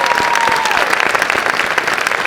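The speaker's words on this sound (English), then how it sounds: "So a big hand of applause for all of them." Audience applause fills a theatre at a PechaKucha Akron evening at the Akron Civic Theatre, a dense, steady burst of many hands clapping for about two seconds, with a faint gliding tone fading beneath it.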